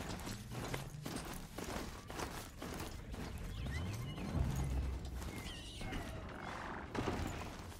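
Horse hooves clip-clop in the video game Horizon Zero Dawn, a steady walking rhythm joined by a neigh and faint mechanical creaks and whirs, all moderately quiet.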